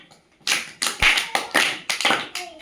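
Children clapping together during a classroom word game, about seven loose group claps in quick, slightly ragged succession, sharp and close, with the bursts overlapping unevenly.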